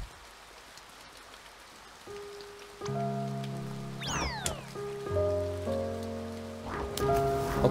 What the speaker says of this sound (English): And it's actually raining